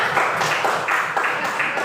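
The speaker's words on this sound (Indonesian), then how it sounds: "Tepuk tangan dulu buat kelompok 1-nya" A classroom group clapping together for a student group, fairly close, with several rhythmic bursts of hand claps that repeat in an even pattern.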